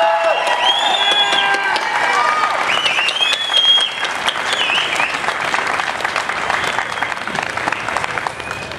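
An audience at a public speech gives sustained, dense applause, many hands clapping steadily and loudly throughout, with scattered cheers and crowd voices mixed in.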